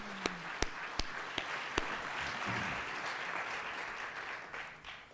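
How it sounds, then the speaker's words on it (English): An audience at a ward aldermanic runoff debate claps in a soft, distant round of applause, with a few sharper near claps early on. "give a big round of applause before we move to the next phase"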